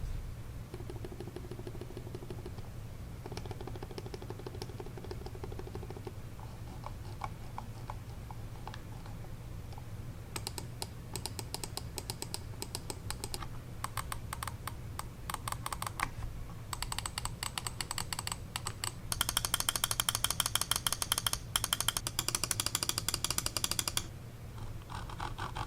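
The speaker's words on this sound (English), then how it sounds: "let's listen and I'll let you decide what sounds better to you, the Logitech G305 or this cheap no-name mouse" Rapid mouse clicks from a Logitech G305 and a cheap no-name mouse, compared one after the other, a steady run of light ticking that grows denser and louder in the later part, with no talking.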